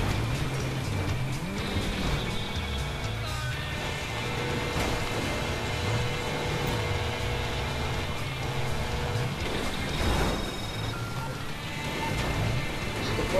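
A car being driven in the video game GTA 5, with a steady engine drone running throughout at moderate loudness, rising and surging in places, with some game sounds mixed in.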